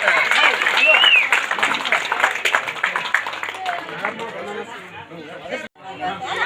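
Loud clapping spreads through a crowd as a guest arrives at a village unit inauguration ceremony, mixed with lively chatter and voices, before dropping off briefly near the end.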